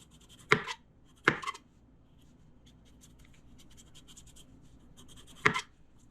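A peeler scrapes down a cucumber in strips: three short, crisp rasping strokes, two close together near the start and one later, with quiet kitchen background between them.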